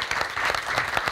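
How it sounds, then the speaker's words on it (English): Audience applause for Leslie at a community forum on prescription drug abuse in Sonoma, a brief steady burst of many hands clapping at even loudness throughout. "First of all, I just want to give another round of applause to Leslie."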